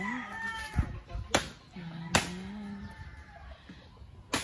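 Chickens and fighting cocks cluck and a rooster crows at moderate distance, broken by a few sharp snapping cracks in an outdoor setting.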